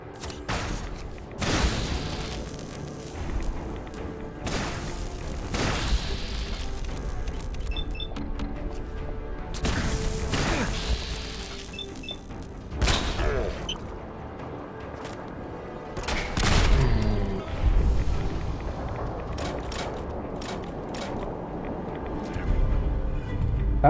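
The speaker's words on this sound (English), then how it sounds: "That's the Tesla cannon?" A Tesla cannon fires repeatedly in the Fallout 4 video game. Loud, sharp electric blasts and booms recur across the scene, some close together, with crackling mechanical clatter in between.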